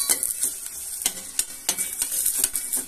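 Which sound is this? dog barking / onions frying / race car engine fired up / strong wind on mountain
onions frying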